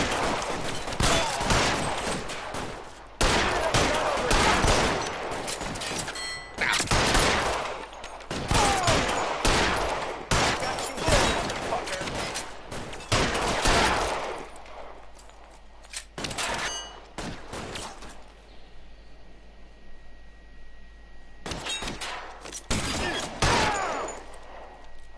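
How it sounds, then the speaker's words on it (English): Repeated volleys of gunfire from a shootout in the video game L.A. Noire crack in loud clustered bursts, separated by quieter gaps with faint background tones, and some voices appear between shots. "Wasn't expecting to get into a shootout."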